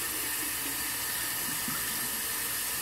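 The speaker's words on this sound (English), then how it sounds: "let me fill up my bowl, since the brush was soaking in it" Tap water runs steadily into a shaving bowl holding a soaking shave brush, a constant close hiss and splash with no talk.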